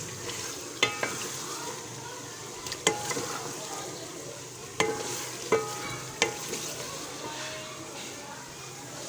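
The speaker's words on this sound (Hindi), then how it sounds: "अच्छी तरह चिकन भुन गया है।" Chicken pieces frying in a pan are stirred, giving a steady sizzle with sharp scrapes and clatters of the spoon repeating every second or two, close up.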